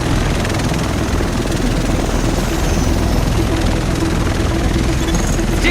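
Helicopter in a cutscene from the video game Tom Clancy's The Division, set in New York: a steady, loud rotor-and-engine roar fills the whole stretch without letup.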